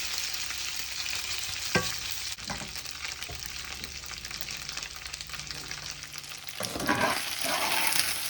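Korean-style popcorn tofu coated in cornflour fries in a pan, giving a steady soft sizzle throughout, with a few utensil clinks and stirring scrapes and a louder burst of sizzling near the end.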